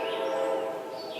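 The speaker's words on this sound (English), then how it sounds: "Train track near. Train here." A train on a railway track near a rainy campsite, a steady close rumble with a high metallic squeal or whine across it, loud and continuous for a little over a second.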